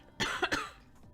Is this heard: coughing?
yes